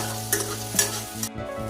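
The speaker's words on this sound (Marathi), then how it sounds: "या ठिकाणी कांदा मऊ होईपर्यंत चांगलं परतून घेणार आहोत आपण" Chopped onion sautéing in a pan over a medium gas flame, a steady sizzle with brisk stirring strokes every few moments, close and continuous, with a tonal hum running underneath.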